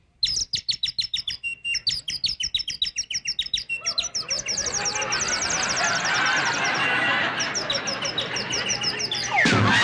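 A voice imitates the mating call of a yellow-throated canary with a rapid run of high, sharp whistled chirps, loud and close, which then gives way to roaring crowd noise.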